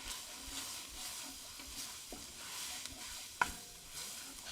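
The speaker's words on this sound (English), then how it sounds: "Give it a stir." Flour being stirred into a soup pot on the stove, a quiet scraping swirl with a faint simmering sizzle underneath and a couple of soft utensil knocks against the pot.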